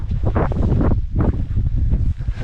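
Strong wind at a wild camping spot in the Lake District in March buffets the microphone in loud, steady gusts with a low rumble throughout and no talk.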